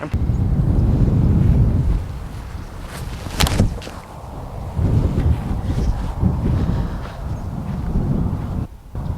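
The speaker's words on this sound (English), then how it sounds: "A left to right wind" Steady outdoor wind gusting across the microphone on an open disc golf course, a broad low rumble rising and easing throughout with a brief dip near the end, no voices.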